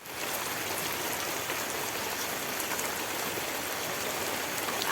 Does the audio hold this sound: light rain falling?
yes